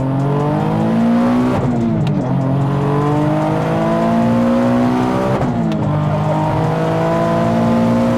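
Single-turbo Nissan 370Z on 255 and 265 tires accelerating hard, engine note climbing steadily through two gear shifts with loud, close exhaust roar and tire squeal, no talking.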